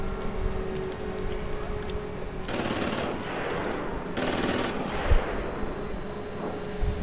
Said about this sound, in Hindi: कोई गोलियां बजा रहा है यार